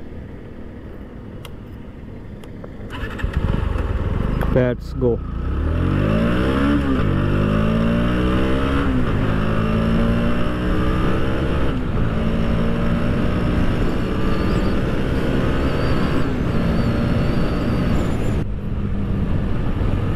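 A Bajaj Pulsar NS 125, a 125cc naked sport motorcycle, starts up close by, then revs and accelerates through gears in rising sweeps; a rider speaks briefly near the start.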